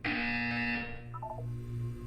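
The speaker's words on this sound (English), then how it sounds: "You will hear a buzzer. When you hear the buzzer," A loud, harsh electronic buzzer sounds steadily for about a second, then cuts off, followed by a few quieter electronic beeps over a low hum.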